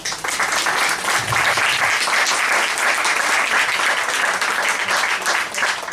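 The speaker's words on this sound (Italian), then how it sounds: "Io farei un applauso" Sustained applause from an audience at a book presentation, a dense even patter of many hands clapping at steady loudness throughout.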